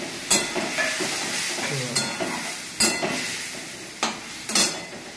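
Onion, garlic and ginger frying in a wok with water poured in, giving a steady hiss and sizzle broken by several sharp scraping stirs of a spatula, close and fairly loud.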